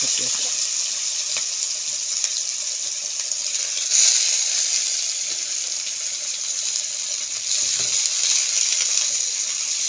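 Green chilies and black cumin seeds in hot oil give a loud, close, steady hiss, with a brief surge of spitting near the start and again later in the clip, and no voices over it.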